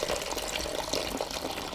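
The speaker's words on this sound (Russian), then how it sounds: "Наливаем 600 грамм воды." Water is poured into a container holding alcohol to dilute it, a continuous close splashing trickle of filling liquid.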